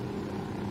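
Helicopter setting down in the game Ghost Recon Wildlands, a brief, steady rotor and engine drone at moderate volume with no voices.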